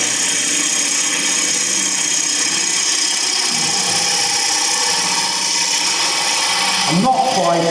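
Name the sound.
gouge cutting a bead on a wood lathe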